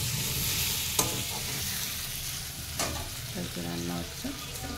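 Soybeans fry in a pan while a utensil stirs them, making a steady sizzle broken by several sharp clinks and scrapes against the metal, close by and moderately loud, with no speech.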